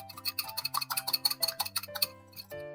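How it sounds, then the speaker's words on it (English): A raw egg is whisked into palabok sauce, a quick series of light rhythmic scraping taps of a whisk against a bowl, close and fairly quiet. "I have 1 raw egg that I put it and whisk it."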